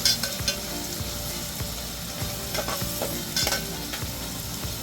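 Onion frying for masoor dal, being browned in hot oil: a steady close sizzle with repeated scraping strokes of a spatula through the pan, no voices.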